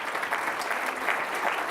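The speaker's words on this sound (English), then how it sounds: "Give yourselves a big round of applause." A crowd claps steadily, a dense even patter of applause with no voices standing out.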